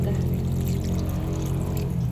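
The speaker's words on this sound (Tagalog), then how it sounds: "Lagyan ko din po ito ng kaunting tubig para po siya lumambot-lambot" A little water is poured into a cooking pot of Filipino pork adobo seasoned with pepper, making a continuous close splashing pour over a sizzling background.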